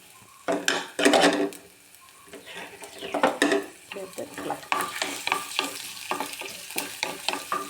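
Ginger and garlic sizzle in hot oil with mustard seeds and curry leaves, the spoon stirring and scraping the pan in repeated strokes that rise into louder bursts, close and steady with no talking.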